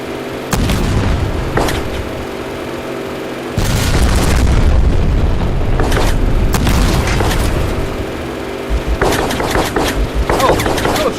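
Artillery in a mech combat game, heavy booming blasts and rapid volleys of fire in loud bursts separated by short lulls, with a steady low rumble throughout.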